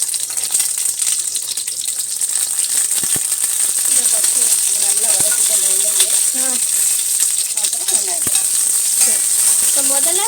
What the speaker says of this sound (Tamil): கத்திரிக்காய் தான் நல்லா எண்ணெயில் வதக்கணும்